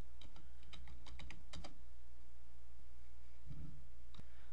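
Typing on a computer keyboard into a web search bar, a quick burst of close, crisp key clicks followed by a pause and a couple of isolated taps, with no talking.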